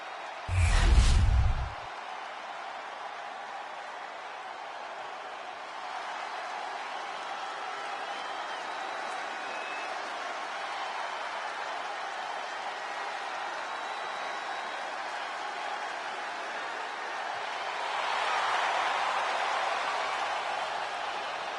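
WWE 2K25 wrestling arena crowd roaring for Seth Rollins, a broad steady wash of cheering and applause that swells louder near the end, after a brief loud thud at the start.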